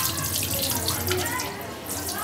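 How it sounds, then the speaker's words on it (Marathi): Creek crabs being washed under a running kitchen tap, water gushing and splashing continuously at close range throughout the short stretch. "हे आता मी 3-4 पाण्यातून धुवून घेते"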